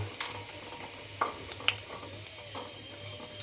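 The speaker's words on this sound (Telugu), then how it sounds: "నూనె బాగా కాగిన తర్వాత పోపేద్దాం ఇప్పుడు ఇందులో మినపప్పు శనగపప్పు" Urad dal and chana dal fry in hot oil for a tempering, a steady sizzle broken by occasional light stirring taps against the pan, close and unaccompanied by speech.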